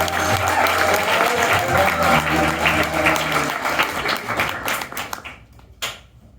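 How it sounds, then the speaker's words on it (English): An improv comedy audience applauds with steady, dense clapping that fades out over the last couple of seconds. "Give a round of applause."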